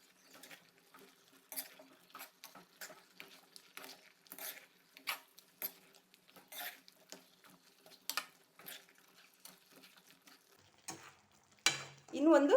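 A spoon or spatula stirring bachelor-style chicken fry with chili powder in a pan, producing quiet intermittent scraping and soft sizzling patters, ending with a louder clatter.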